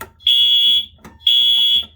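Two loud, piercing fire alarm tones sound about a second apart during a system test, each a sustained shrill beep of roughly half a second over quiet room noise.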